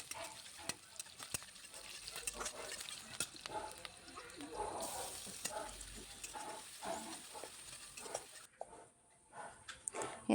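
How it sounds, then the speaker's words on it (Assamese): Tomato is fried in hot oil for a jackfruit curry, giving a steady close sizzle and crackle broken by scrapes and clicks as it is stirred, until the sound drops away near the end. "ইয়াত বিলাহী দি দিছোঁ তেলতে।"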